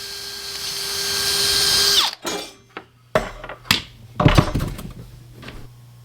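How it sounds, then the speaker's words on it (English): A drill bores a hole into the bottom of a St. Croix Triumph Surf fishing rod blank, first a steady high whine for about two seconds, then a series of short, sharp bursts and scrapes as the bit bites, with no talking. "Here I am drilling a hole at the bottom of the blank to fix that rattling problem."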